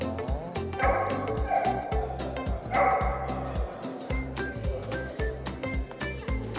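A puppy being fostered for adoption on a university campus barks repeatedly in short, sharp, close yaps with brief whimpers, at a quick uneven rhythm.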